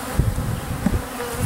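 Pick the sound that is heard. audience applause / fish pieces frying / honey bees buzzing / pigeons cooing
honey bees buzzing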